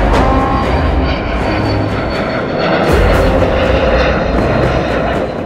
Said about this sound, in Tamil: அந்த விமானம் டேக் ஆஃப் ஆகி போகுது.